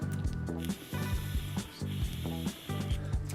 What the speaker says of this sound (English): Alright, spraying it.